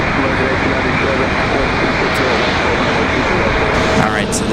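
An America West airliner arriving from Charlotte, North Carolina at Raleigh-Durham airport on a windy day produces a loud, continuous jet roar close by, with wind noise throughout.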